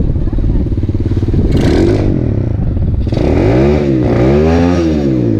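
Coolster 125cc small engine running after a kickstart, a loud, close putter with rhythmic pulses that rises in several quick revs, with someone talking over it.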